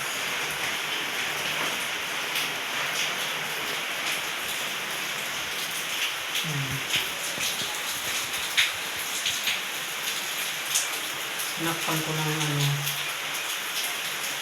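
Heavy rain pours steadily outside on a cold morning, a dense, even hiss with scattered drips and patter on surfaces, broken now and then by soft thumps and a low voice in the background.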